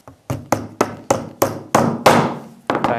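A hammer drives small nails with about eight sharp, ringing strikes in an even rhythm, close and clear with short decays between blows and no talking.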